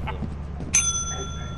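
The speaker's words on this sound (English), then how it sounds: "Did he ring the bell though?" Ship bell in the video game Lethal Company rings once, a bright, sustained metallic tone that lingers after a sharp strike, following faint muffled voices and scuffles.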